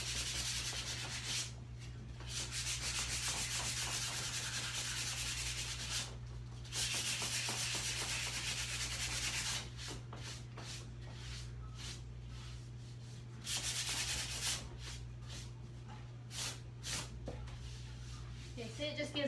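Sandpaper rubs steadily over a wooden Christmas ornament in long continuous back-and-forth passes, close and raspy, broken by brief pauses, with a constant low hum behind it.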